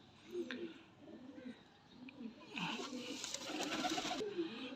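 Pigeons give soft, faint coos in an enclosure, with a brief burst of rustling or wing flutter midway and quiet ambient background.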